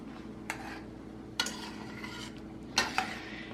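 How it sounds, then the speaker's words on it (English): A spoon stirs chicken pot pie filling of chicken, mixed vegetables and potatoes in a pot, giving a few soft scraping clinks spaced a second or so apart over a steady low background hum. "once we get this stirred up and incorporated"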